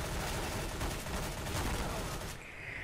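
MP7 submachine gun in Counter-Strike GO fires a dense, loud burst of rapid shots that runs for over two seconds before cutting off into quieter game ambience.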